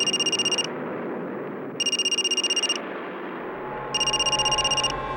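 A telephone rings in three evenly spaced electronic bursts of rapid trilling tones over a low indoor background.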